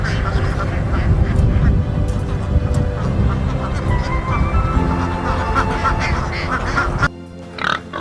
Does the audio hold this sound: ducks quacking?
yes